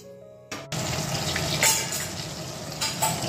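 Hilsa fish pieces rubbed with salt and turmeric dropped into hot oil, a sudden loud sizzle that settles into steady close frying with faint crackles, no voices.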